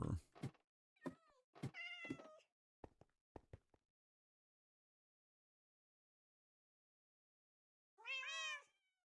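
Cat meowing inside a Minecraft house: a cluster of short game meows and chirps up front, then silence, then one longer, louder meow near the end, all close and clear with no talk.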